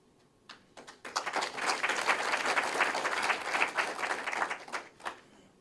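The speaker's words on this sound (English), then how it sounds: "we should rightly applaud ourselves for the progress made" An audience at a regional state address applauds, scattered claps building into a thick burst of clapping that holds for several seconds before thinning out to a few last claps.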